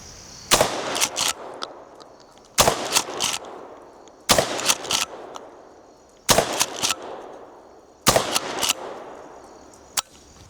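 Five loud shotgun blasts from a Remington 870, fired one after another at roughly two-second intervals, each a sharp close crack followed by a short echo and the clack of the pump action.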